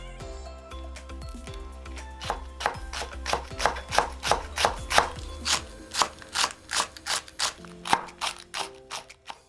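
A knife slices a third of a carrot into thin 2 mm rounds and then cuts them into julienne strips on a cutting board. Irregular crisp chopping taps come in quick bursts close by, with no talking.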